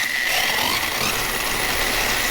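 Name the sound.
Hyper Go 10210 RC car running on wobbly wheels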